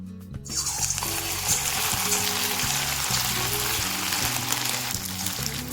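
Chicken 65 pieces frying in oil over a medium-low gas flame, a dense, continuous crackling sizzle that swells after a brief quiet start and holds steady, with soft low clinks underneath.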